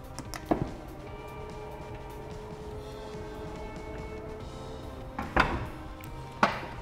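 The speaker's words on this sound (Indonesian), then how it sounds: "Kita cukup gerakan kaki ke bagian bawah dan pintu bagasi terbuka secara otomatis" A Porsche Cayenne S Coupe's tailgate opens automatically with a faint steady motor whine, bracketed by a soft click at the start and a couple of sharper mechanical clunks near the end.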